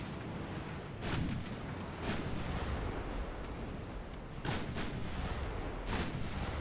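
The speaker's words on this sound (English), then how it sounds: "Guns are hitting home, at least." Naval guns from warships in the game Dreadnought boom in several heavy, distant-sounding blasts spaced a second or two apart, each followed by a rumbling tail over steady low background noise.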